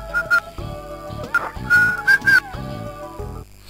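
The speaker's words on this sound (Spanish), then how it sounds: "¿Ahora tú acá estás silbando, visto o no?" A person whistles in short, high, clear notes, some brief and some held, over game music and clatter from a Dragon Ball Xenoverse online match.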